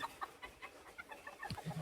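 Faint clucks and short calls from barred chickens and a rooster come in a loose, irregular series, fairly quiet and without talk.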